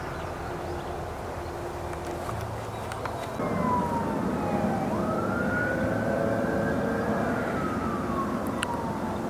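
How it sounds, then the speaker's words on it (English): Wailing emergency sirens sweep up and down in pitch over a steady broadband rumble of traffic, continuing through the whole stretch. "Sirens"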